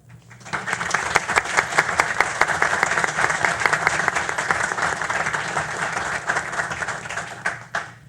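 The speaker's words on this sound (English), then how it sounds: "So I just want us to take a moment and give you a round of applause" Audience at a Williamson County school board meeting gives a sustained round of applause, many hands clapping steadily for about seven seconds before tapering off.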